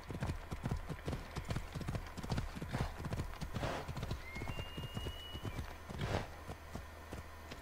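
Steady clip-clop of horse hooves trotting on a hard surface in a video game, close and rhythmic, with a brief whinny-like tone partway through.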